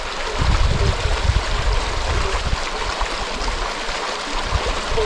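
Water in a creek flows steadily nearby, a continuous loud rushing and gurgling with no voices, the wash holding even throughout.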